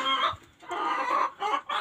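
Chickens cluck in close, uneven bursts with short pauses between them, with no talking.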